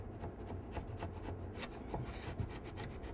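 A knife blade scrapes Bondo filler off a wooden cabinet side around a screw head in quick, rasping strokes, close and steady with no talking.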